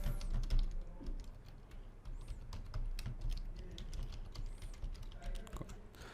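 Fingers type on a computer keyboard in a quick, uneven patter of close key clicks while a student's name and email are entered, with no voice over it.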